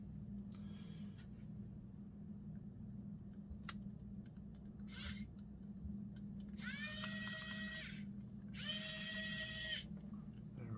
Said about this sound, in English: back to my magnetic electric screwdriver